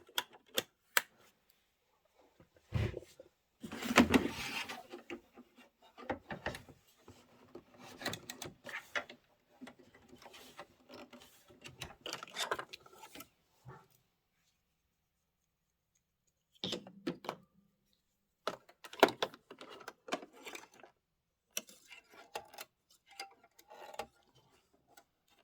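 A home embroidery machine stitches out small eyeballs on a Halloween pillow block with white thread, giving bursts of fast mechanical clatter and ticking that stop and restart with quiet gaps between runs.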